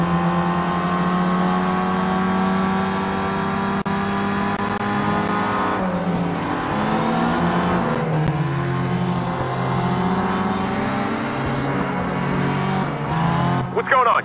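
Race car engines roar in a racing video game, a sustained loud harmonic drone with shifting pitch as cars accelerate and change gear, under continuous game sound and intermittent voices.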